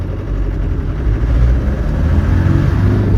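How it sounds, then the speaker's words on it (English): A very standard 1996 Land Rover Defender 90 with a 300Tdi diesel engine runs close by, steady low engine drone with slight shifts in pitch as it moves through the gears. "let's go through the gears one more time."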